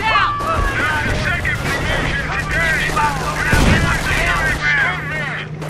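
Rapid automatic gunfire and explosions from the Company of Heroes video game, a dense continuous battle din with bursts and a heavy boom midway, while voices talk over it throughout.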